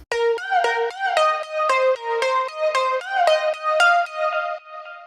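A bright, buzzy synthesizer lead layering a seven-voice unison sine wave with a square wave plays a quick melodic line of short repeated notes with a thick tone, solo and fairly loud.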